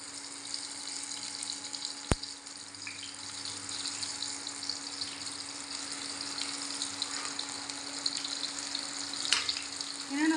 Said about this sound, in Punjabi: ਆਪਾਂ ਚੰਗੀ ਤਰ੍ਹਾਂ ਫਰਾਈ ਕਰ ਲੈਣੇ ਆ